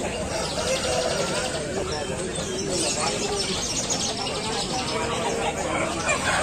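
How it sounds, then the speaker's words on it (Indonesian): Traditional bird market at Gawok, Sukoharjo, with many caged birds chirping and cooing in a continuous busy chorus under loud crowd chatter and talk. "Mantap sekali untuk pasar burung gawok ini, selalu ramai teman-teman."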